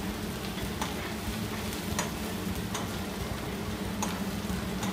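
Onions and ginger sautéing in a pan for palak rice, an even, moderate sizzle with a few light spoon ticks recurring about once a second.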